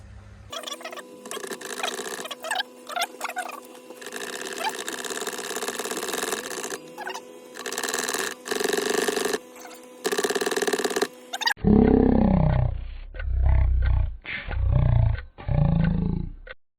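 Tetra EX800 Plus aquarium canister filter being primed by pumping: a steady motor hum with repeated bursts of gurgling and pumping noise, then a sharper, louder stretch of rhythmic pumping surges toward the end.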